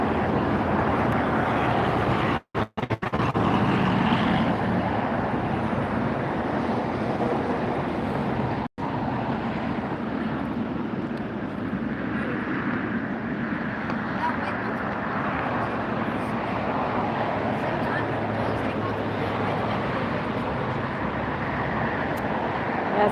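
Air Tahiti Nui widebody airliner taking off on the far side at LAX, a broad, steady distant roar of jet engines held throughout, with someone talking over it and a couple of short dropouts.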